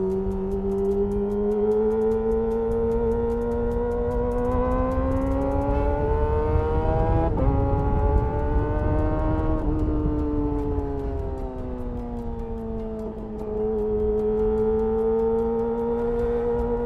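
A custom Kawasaki ZX-25R cafe racer motorcycle holds a loud, sustained high-pitched engine drone that swells and dips in pitch as the revs rise and fall, close and alone.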